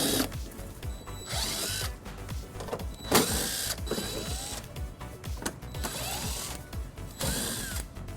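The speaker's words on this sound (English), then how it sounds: "we're going to remove 6 bolts using an 8mm socket" A power tool driving an 8mm socket to remove bumper fascia bolts on a 2010 BMW X5, with repeated close whirring bursts and ratcheting that rise and fall between pauses.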